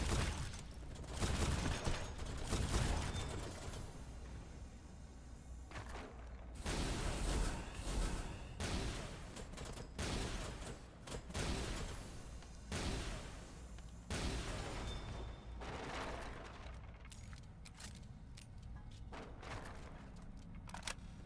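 Enemy gunfire in the video game Dolls Nest rattles in repeated bursts of rapid shots separated by short pauses, fairly faint, with mechanical clatter between volleys.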